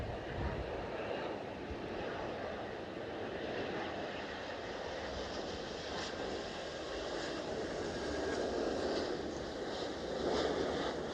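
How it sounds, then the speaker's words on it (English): Avianca Boeing 787-8 Dreamliner landing at Ponta Delgada, São Miguel in the Azores, a steady, loud jet engine roar with broadband rushing noise that swells slightly toward the end, no talking. "look this perfect landing, direct from Bogota"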